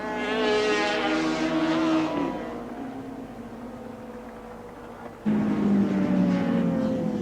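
Racing sidecar motorcycles at the 1989 Australian Sidecar Championship at Oran Park, a high-pitched engine wail dropping in pitch as one outfit passes, a lull of distant drone, then another loud outfit suddenly roaring close by.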